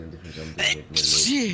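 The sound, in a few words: sneeze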